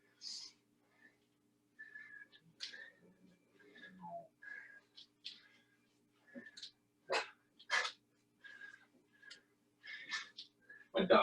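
A small dog makes scattered yips, short barks and whimpers during a home functional-movement workout session, fairly faint and intermittent, with occasional breaths and soft voices between.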